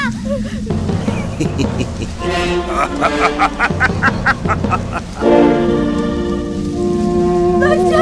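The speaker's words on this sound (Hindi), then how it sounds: "ये तूफान शांत हो जाएगा।" Heavy storm rain pours down loudly and continuously, with a deeper surge partway through, while voices and tonal music sound over the downpour.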